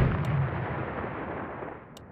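Tank high-explosive shells and artillery fire in the ArmA 2 combat game form a dense, continuous rumbling barrage, loud and low, with sharp bursts near the start and the end.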